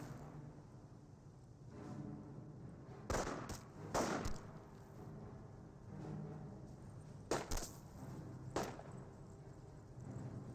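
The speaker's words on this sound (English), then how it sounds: "Sniper firing some shots" Sniper rifle shots in Company of Heroes, several sharp distant cracks spaced a few seconds apart over low battlefield rumble and scattered gunfire, with no talk.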